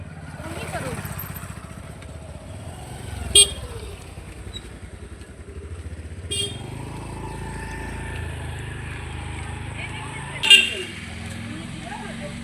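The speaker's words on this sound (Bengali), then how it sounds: "বাইক আছে" Traffic hums in the background as motorcycles pass, with a few short horn toots; a person talks throughout over the street noise.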